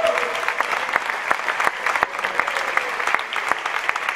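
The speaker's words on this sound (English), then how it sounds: "We'll give the students a big round of applause." An audience applauding students at a youth success week event in Oceanside, a dense, steady round of clapping from a crowd, close and lively, with faint voices mixed in.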